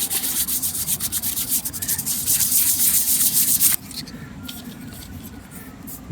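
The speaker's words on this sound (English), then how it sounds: "So the 400 grit paper seems to be taking this off, taking the high spots off" A Western Electric Model 500 desk phone with bubbled, peeling finish is sanded by hand with 400 grit paper, making close, rhythmic scratchy rubbing strokes that turn softer partway through.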